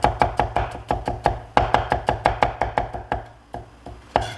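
A cleaver slices diagonally cut cucumber lengthwise into thin strips on a board, giving rapid, regular, close knocks in a steady rhythm with short pauses.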